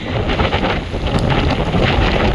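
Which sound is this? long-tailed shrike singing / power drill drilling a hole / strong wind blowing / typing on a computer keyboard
strong wind blowing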